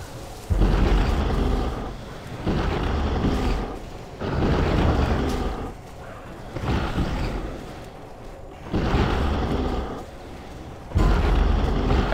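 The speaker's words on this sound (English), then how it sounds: "It is a thunderclap, so caster stay out" A Thunderclap ability fires during an Ahn'Qiraj 40 raid in Turtle WoW, a World of Warcraft server, as a series of heavy, loud booming rumbles in roughly two-second bursts separated by quieter gaps.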